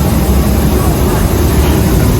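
Steady, loud roar of an Embraer ERJ175 airliner's engines heard while passengers board a United Airlines flight, a continuous broadband drone with no breaks.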